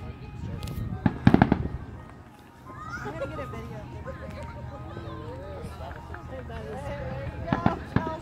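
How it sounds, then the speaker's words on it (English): Fireworks bang in a loud cluster early on, then pop intermittently at a distance over a steady outdoor background, with a sharper burst near the end; people talk faintly throughout. "now you can see the fireworks"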